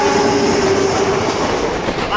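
A train runs steadily through a Bengali cartoon story, its continuous loud rumble and rattle holding even for the whole stretch, with a faint whistle-like tone underneath.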